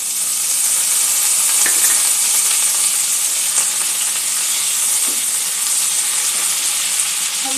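Chopped onion fries in hot oil in a pan for a fish egg curry, a loud, continuous bright sizzle and hiss, close up, with a few faint clinks and no talking.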